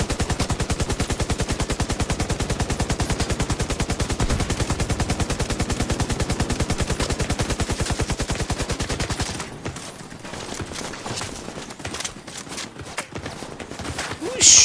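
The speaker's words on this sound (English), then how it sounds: "Who's shooting?" Sustained rapid automatic gunfire in The Division 2, a loud steady machine-gun rattle that stops abruptly, followed by scattered quieter shots and clatter.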